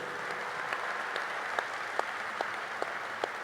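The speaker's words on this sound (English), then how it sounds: "But yeah, it's worth an applaud." Scattered audience applause at a business forum panel, a steady wash of clapping with a few sharper individual claps standing out, moderately distant and fairly quiet.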